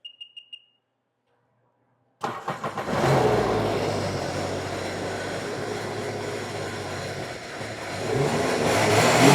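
A supercharged jet ski engine, a found machine being test-run, gives a few faint clicks, falls silent, then cranks and fires into a loud, steady close running roar that builds with throttle toward the end.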